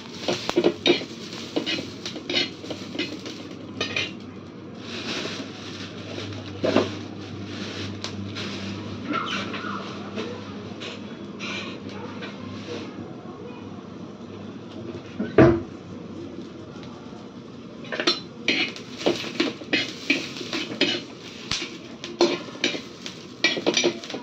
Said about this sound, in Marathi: मिरची पण भाजून घेऊया.